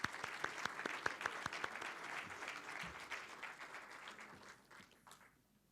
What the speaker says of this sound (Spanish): pido un aplauso para todos los presentes y para todos ustedes